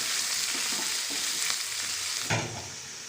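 Spices and tomato frying in a pan for yakhni pulao, a dense, continuous close sizzle with soft stirring strokes and one louder scrape near the end, no talking.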